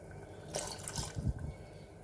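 A small amount of water poured into ash gourd fasting soup already tempered with cumin, a short splashing trickle that swells around the middle then fades, close by with no talk.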